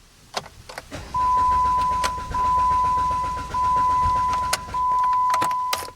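A car engine cranks repeatedly without catching, four long starter bursts with a steady whirring drone and brief gaps between attempts, heard close with a faint tone over it and no talk.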